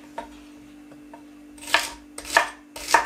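Celery being chopped on a cutting board for a fat-burning juice, with three sharp, close knife strokes after a few faint taps and no talking.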